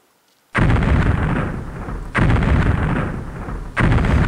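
Artillery shells burst in the WinSPWW2 World War II tactical wargame, three heavy booming explosions about one and a half seconds apart, each loud and sudden with a long rumbling decay, no talking.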